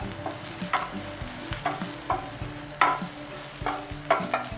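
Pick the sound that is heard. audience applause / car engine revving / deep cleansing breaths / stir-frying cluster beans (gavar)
stir-frying cluster beans (gavar)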